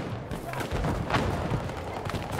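Battlefield 2042 gameplay with dense, muffled gunfire and distant booms layered over a constant roar of battle noise, with no clear individual shots standing out.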